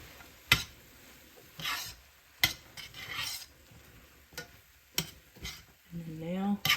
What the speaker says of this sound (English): Put all that in there, stir that up.